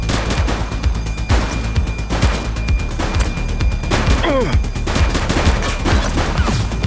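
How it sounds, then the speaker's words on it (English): Gunfire in a police shootout in The Precinct video game: rapid bursts and single shots crack loudly and close in an irregular rhythm, with sharp impacts and short shouted voice lines mixed in. "Shots fired!"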